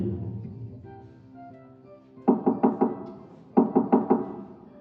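Knuckles rapping on a wooden door in two quick bursts of four or five sharp knocks each, close and loud, following a stretch of soft sustained music.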